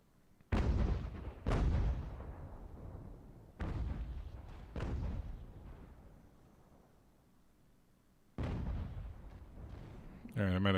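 Musket volleys and cannon fire boom in the strategy video game Ultimate General: American Revolution, several sharp loud blasts at irregular intervals, each followed by a rumbling decay, with someone talking between them.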